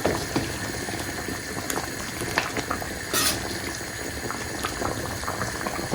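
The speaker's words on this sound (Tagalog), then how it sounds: "Kulo-kulo na siya." Beef mechado bubbling steadily in a pot, a continuous close, moderately loud boil with liquid gurgling and a few faint utensil clinks and scrapes.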